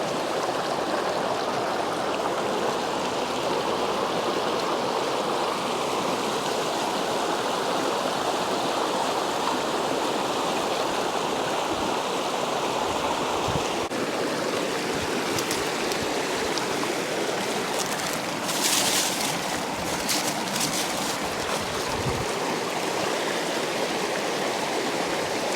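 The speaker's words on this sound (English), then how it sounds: "Have you guys ever seen a more beautiful creek?" A woodland creek flows steadily and evenly, a continuous close rushing and babbling of water, with a few faint knocks and rustles in the latter part.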